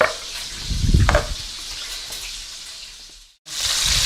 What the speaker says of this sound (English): Bacon is crisping up nicely.